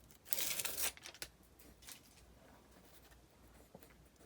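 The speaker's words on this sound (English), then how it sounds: "I'm just going to remove the score tape" Score tape backing peeled off a piece of chipboard during a papercraft build, giving a brief close crackling, tearing rip followed by faint rustles and small handling taps.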